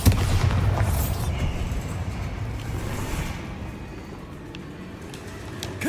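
A Bombarda spell explodes in Hogwarts Legacy: a loud, deep blast at the start that rumbles and slowly decays across several seconds, with faint crackling debris afterward.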